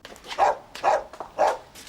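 An abandoned dog barks three times in a steady rhythm, loud and close, with faint whimpering between the barks in an indoor setting.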